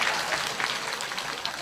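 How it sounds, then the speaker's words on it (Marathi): A seated group claps loudly together, a dense burst of hand claps heard close with some voices mixed in. "तुम्ही एकदा जोरात टाळ्या वाजवा."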